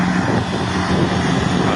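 A tractor engine runs loud and close, a thick steady rumbling drone with a gritty texture and no pauses, while a trolley is being loaded with soil.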